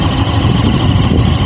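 A motorcycle, one of a group of bikes ridden out to Pocharam Dam near Hyderabad, runs close by. Its engine keeps up a loud, steady, rumbling idle with an even vibration throughout the short moment.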